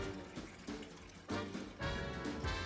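Water poured into a bowl for sourdough bread dough, a close, continuous splashing stream that swells in two stronger surges, with no talking.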